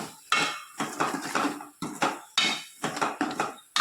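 A spoon scraping and clanking against a cooking pan while stirring chili masala for a prawn curry, a rhythmic series of sharp metallic strokes in close succession, loud and close.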